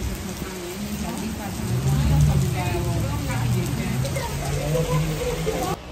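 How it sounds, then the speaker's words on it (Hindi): Steady, heavy rain pours down in a continuous dense hiss, with a low rumble underneath and a voice speaking over it. "देखिए इतनी तेज बारिश होने लग गई है यार"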